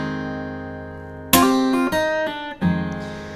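An acoustic guitar riff, a quick run of plucked, dotted-rhythm notes following a lingering ringing chord, played close and clean with no talk.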